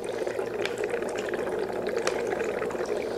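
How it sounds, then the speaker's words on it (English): Worm tea brewing in a bucket, a steady wash of bubbling and gurgling water with faint splashy pops, continuous and close throughout. "it's bubbling around and brewing right now"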